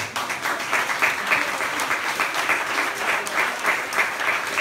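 A church congregation applauds during a bilingual sermon, many hands clapping in a full, sustained wash with a faintly pulsing rhythm, loud and close throughout.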